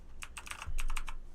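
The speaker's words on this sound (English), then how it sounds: "I'm pressing backspace." Rapid clicking of a light-up computer keyboard, with keys tapped in quick succession including repeated backspace presses, fairly close and moderately quiet, with no talking.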